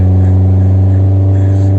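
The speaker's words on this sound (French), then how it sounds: "Écoutez donc le joli bruit de ma Chevrolet" A Chevrolet engine with a missing exhaust idles and revs close up, a loud, rough, steady rumble with a strong low throb and no talking.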